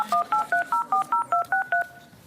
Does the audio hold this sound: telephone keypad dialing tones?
yes